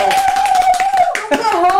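Applause from a virtual studio audience on a Brazilian live variety show, steady clapping that fills the clip, with a host's voice and a tonal line running over it.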